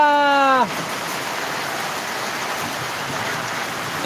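Steady heavy rain hisses continuously, a dense wash of falling water after a brief burst of music at the start.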